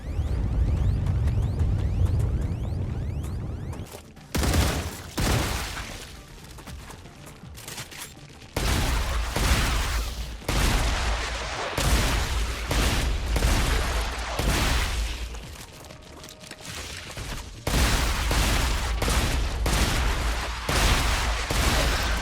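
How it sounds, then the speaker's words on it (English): A shotgun fires again and again in the video game StarRupture: loud, booming blasts in rapid bursts, with short gaps between volleys as shots continue over the whole stretch. "Yeah, that shotgun is doing the job."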